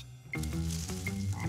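A cartoon toad croaks in a short burst of low, throaty, rhythmic pulses, loud and close, with no talking over it.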